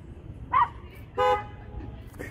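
Two short car horn toots, one brief and one slightly longer, sound moderately close near a dog park over a low, steady background hum.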